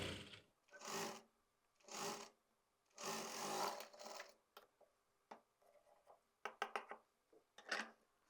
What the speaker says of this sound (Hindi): 1/2 इंच के गैप पे सिलाई लगाते हुए इसको अटैच कर देंगे